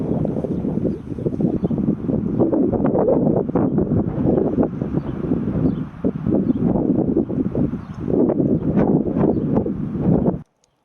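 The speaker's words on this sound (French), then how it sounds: "Il y a du vent, hein." Strong gusty desert wind in Morocco buffets the microphone in a loud, continuous roar that rises and dips before cutting off abruptly.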